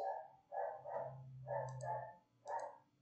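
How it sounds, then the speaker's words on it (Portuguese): A small dog barks in short bursts, three or four sharp yaps spread across a few seconds, moderately close indoors against a low steady hum. "Cachorrinho"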